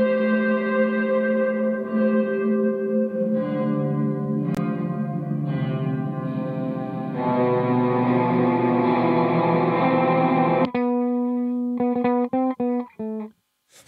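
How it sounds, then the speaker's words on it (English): A Chase Bliss Dark World dual-channel reverb pedal set to a long, fully wet reverb turns sustained guitar chords into a shimmering, layered wash that swells and shifts, then breaks into choppy repeated stabs fading out at the end. "let's do a long, and again, let's just do mostly all reverb, no dry, so you can hear it"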